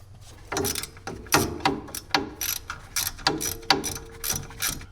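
A ratchet loosens a 10mm bolt holding the ABS sensor on a 2018 Chevrolet during lower ball joint replacement, heard as close, rapid clicking bursts in repeated short strokes.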